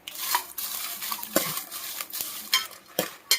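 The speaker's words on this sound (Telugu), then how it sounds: "చూస్తున్నారు కదా ఎంత మంచిగా ఫ్రై అవుతున్నాయో" Dried red chillies fry in a little oil in a pot for gongura pickle, a steady crackling sizzle broken by sharp metal scrapes and clinks of stirring, close and alone with no voices.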